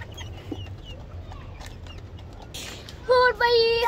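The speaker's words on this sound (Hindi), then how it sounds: "मुर्गा बोल ही रहा था" A rooster crows loudly near the end, a sharp harmonic call after quieter background noise and faint clucking.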